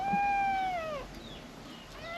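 A cat gives one drawn-out meow close by, holding a steady pitch before sliding down and fading. It happens while vegetables are being prepared for cooking, with no talk over it.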